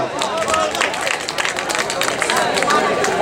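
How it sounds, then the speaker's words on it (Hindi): Crowd of listeners clapping at an Urdu-Hindi poetry mushaira, a dense, steady wash of applause mixed with cheering and crowd babble that holds throughout. "एक बार जोरदार ताली बजाइए आप लोग।"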